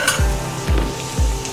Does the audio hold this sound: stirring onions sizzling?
yes